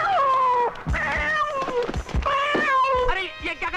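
A cat in a 1988 Hindi horror film meows and yowls repeatedly with drawn-out wailing cries, loud and close, while people talk over it.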